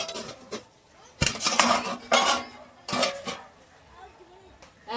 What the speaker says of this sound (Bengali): আমি একটা ঢাকনা চাপা দিয়ে দিচ্ছি যাতে তাড়াতাড়ি ডালটা গলে যায়